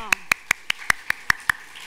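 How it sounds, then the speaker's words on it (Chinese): A church congregation at a Taiwanese Presbyterian worship service claps in unison, about eight sharp, evenly spaced claps at a quick steady beat, close and crisp. "那么给拍手，来，这两个拢给拍手一下"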